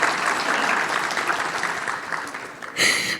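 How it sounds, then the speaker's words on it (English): A crowd claps at a ceremony honouring high-achieving HSC students and university graduates. The dense, steady applause carries on for a few seconds, fades briefly, then swells again at the end. "round of applause for me, please."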